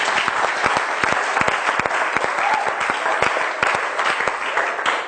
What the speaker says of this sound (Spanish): Un aplauso para el grupo de tercer año.